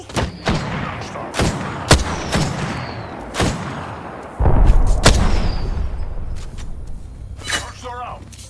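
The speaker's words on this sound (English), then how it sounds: "They're shooting at me." Video game gunfire during a battle royale match, sharp shots cracking in scattered bursts with a heavier booming stretch midway, mixed under a player's frequent excited talk.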